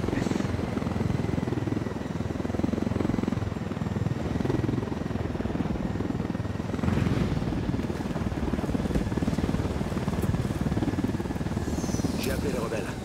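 In Ghost Recon Wildlands, a helicopter's rotor churns in a steady, close, continuous drone, with players' voices talking over it at times.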